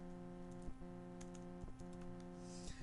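Keys tapped on a computer keyboard while typing a search, a few distinct clicks spaced about a second apart over a constant electrical hum, quiet and close.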